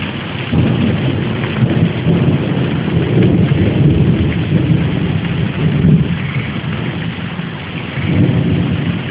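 Heavy rain pouring steadily during a summer thunderstorm, with low thunder rumbling underneath, a continuous loud wash of rainfall close by.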